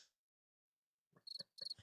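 Soundboard cricket chirps, two short bursts of high trilling after a brief silence, faint and isolated.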